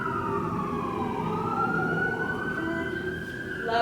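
Emergency sirens wail steadily from the street in Toronto, a rising and falling electronic tone heard at moderate distance, with traffic rumble beneath and no talking.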